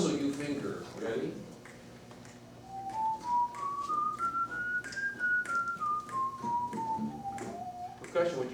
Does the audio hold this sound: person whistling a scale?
yes